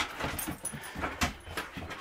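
Dogs and a puppy play up close, with quick panting, small whimpers and soft yips in an irregular run of short bursts and no talking.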